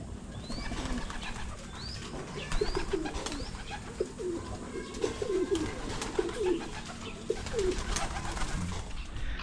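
Pigeons in a loft coo in soft, repeated low calls through the clip, with occasional chirps from other birds over a steady ambient background and no speech.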